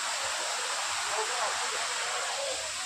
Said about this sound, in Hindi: यहाँ पे देख सकते हैं हम लोग झरना का पानी जा रहा है